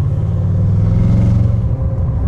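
Deep, steady engine rumble from an Audi RS7 heard from inside the car with a window lowered, a loud continuous low drone holding even throughout with no talk.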